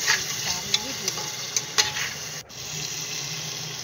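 Ginger-garlic paste water hits spices already frying in a pan for dal, raising a steady hiss and sizzle. Several light stirring clinks sound near the start, then a brief dip and the frying noise resumes.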